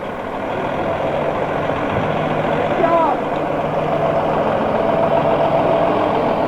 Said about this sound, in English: Next we have a 2000 International Tandem from the Chazy Highway Department.